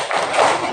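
A group claps in unison for a salute cheer in a classroom practice session, a short burst of dense, close applause lasting under a second.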